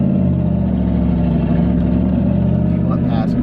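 A loud truck engine rumbles steadily nearby, a deep continuous idle with a slight rise in revs near the end, while a person talks over it.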